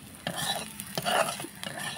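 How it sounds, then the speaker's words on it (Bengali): Garlic, onion and whole green chillies frying in a wok: a steady sizzle broken by several stirring scrapes and clinks of a utensil, close and moderately loud, no speech. "এই দেখুন, আমি লাল লাল করে ভেজে নিচ্ছি।"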